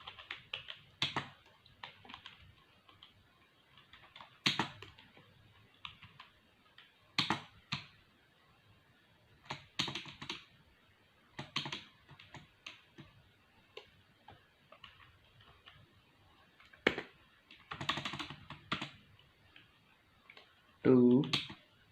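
Typing on a computer keyboard while entering text into a table in MS Word, with short bursts of key clicks separated by pauses and a person speaking in Hindi around them.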